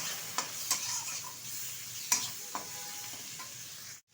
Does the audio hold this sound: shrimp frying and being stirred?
yes